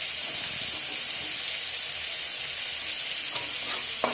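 Vegetables, beans, radish and potato, fry in a pan with salt under a steady close hiss and sizzle, with a few faint stirring scrapes near the end.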